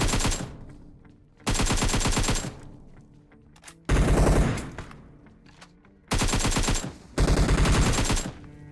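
PUBG Mobile gunfire while killing bots: five loud bursts of rapid automatic fire, each one to two seconds long, separated by short quieter gaps with faint distant shots.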